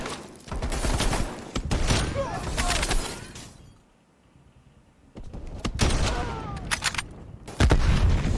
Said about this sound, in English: I got a little bit of artillery in there.